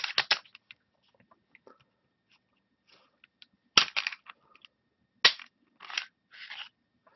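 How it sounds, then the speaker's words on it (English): Handgun being disassembled on a bench, barrel and recoil assembly pulled out, a few sharp metallic clicks and clacks scattered between quiet pauses, close and crisp with no talking. "I'm going to take the barrel and the recoil assembly out"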